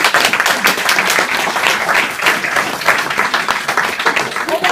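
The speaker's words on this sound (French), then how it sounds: "je pense qu'on peut applaudir nos candidats" A crowd at a French company competition final claps loudly and continuously for the candidates, a thick, even wash of hand claps from start to finish with no talking over it.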